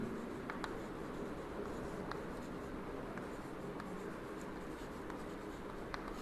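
Marker or chalk writing on a board during an accounting lecture, soft scratchy strokes repeating faintly over a steady roomy background hum, no speech.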